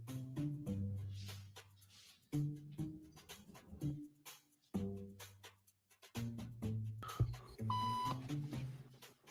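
Electronic beep tones sound at intervals in a social conformity experiment, a few clear high bleeps standing out over a low rumble of room noise and shuffling as people stand.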